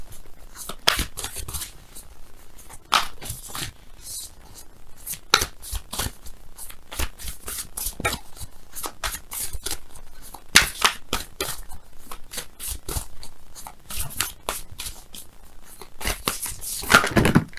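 Tarot cards are shuffled and pulled for a reading, giving a busy run of close, crisp riffling, slapping and sliding card sounds in irregular bursts with no talking.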